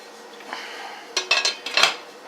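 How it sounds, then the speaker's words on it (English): A metal lid set onto a pot of simmering chicken stock, giving a few close, bright clanks and rattles in quick succession over faint background hiss. "there's the lid."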